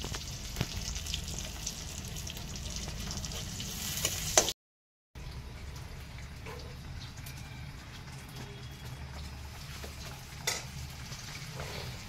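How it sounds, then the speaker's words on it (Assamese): Cut green chillies sizzling in hot leftover fish-frying oil, a steady close frying hiss with small pops, broken by a brief silent gap. "কেঁচা জলকীয়া আৰু দুটা কাটি তেলতে দি লৈছোঁ"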